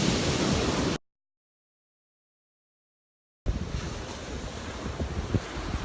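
Surf and wind roll along a beach between Fort Fisher and Bald Head Island, North Carolina: steady broadband wash and gusty wind noise, cut by a silent break of over two seconds before the rush of waves and wind returns.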